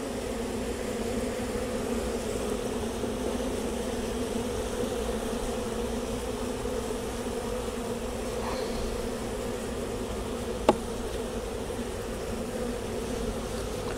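Honey bees drone continuously around a beekeeper's fingers near an open hive, a steady close hum broken once by a single sharp click.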